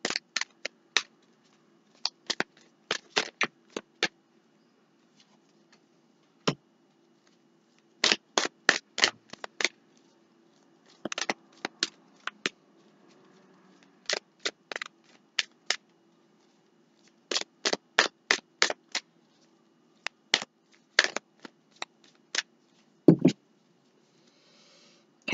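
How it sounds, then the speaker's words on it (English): Tarot cards are riffled and shuffled in quick clusters of crisp snapping flicks separated by pauses, close and clear in a quiet room. "I'm going to give this 7 shuffles."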